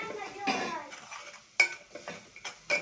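Spices such as turmeric, bay leaf and cinnamon stick being sautéed in a pot for rice, with a utensil stirring and scraping and sharp metallic clinks against the pot over a faint sizzle.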